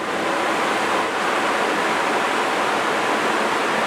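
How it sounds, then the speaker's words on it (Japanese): Steady, full rushing of the Hidaka River flowing past an open inn window near Ryujin Onsen in Wakayama on a cold March morning, constant and fairly loud with no voices. "窓を開けると日高川の流れの音が心地いいです。"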